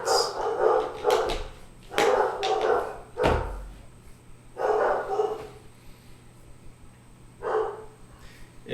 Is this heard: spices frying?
no